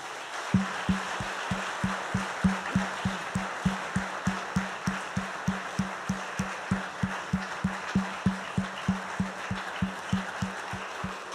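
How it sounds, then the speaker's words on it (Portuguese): A church congregation claps in unison, a long run of even, evenly spaced beats keeping a steady rhythm over a soft room murmur. "Dê um aplauso ao Senhor."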